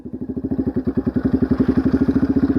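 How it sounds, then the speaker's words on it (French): A quad bike engine chugs at low revs as the clutch is eased out in first gear, giving a loud, close, even rapid thumping pulse that grows slightly stronger as it pulls off. "Je vais lâcher tout doucement mon embrayage et accélérer un tout petit peu pour lancer le quad."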